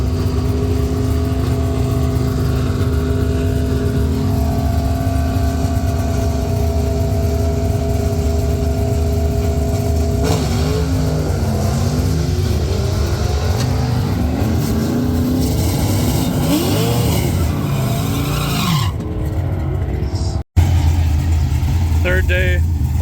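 A NASCAR-engined Plymouth Duster drag car at a drag event idles with a steady rough drone, then roars into a burnout with wavering, rising engine pitch, loud and close, ending with a brief cut.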